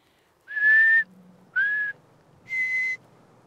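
A person whistles in imitation of an Alpine marmot's alarm call: three loud, clear, short piercing whistles spaced about a second apart, each holding a steady high pitch, over quiet outdoor background.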